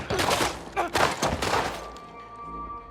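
Several loud, close gunshots ring out during an ambush in The Last of Us Part II, the blasts and thuds clustered in the first two seconds before fading into a low tone.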